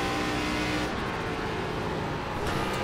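ARCA race car engine in iRacing at Pocono, a loud, steady, close roar throughout as the car downshifts, with a slight tonal change partway through and no talk.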